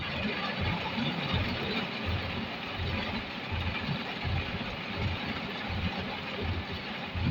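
Car and motorbike engines idle in a traffic jam, a steady low mechanical rumble with a continuous mid-range drone and faint street noise, no clear talk over it.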